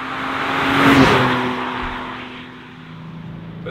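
BMW M2 (G87) sports car driving on a road, its engine note swelling to a loud peak near the start and then easing back into a steady, sustained drone with tire roar.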